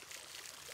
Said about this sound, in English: Oh, no! The water is leaking!